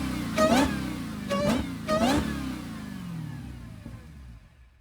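A Dodge Hellcat engine, from a car damaged and bought at a salvage auction, gives three short throttle blips in a row, each a rising rev, then settles into a fading idle rumble, close by with no talking.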